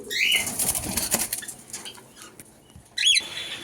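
Wings flap in quick bursts as several cockatiels flutter down close by to feed, with high chirps at the start and again near the end.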